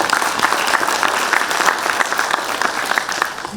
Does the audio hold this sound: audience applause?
yes